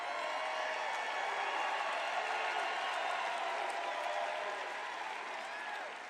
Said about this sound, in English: I don't think I've ever introduced anybody that got applause like that.